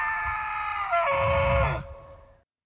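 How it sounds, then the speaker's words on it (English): A bull elk screams a mating call, a loud, high, wavering whistle that slides downward over about two seconds and ends in a rough grunting tail. "Gotta cap it off with the elk scream."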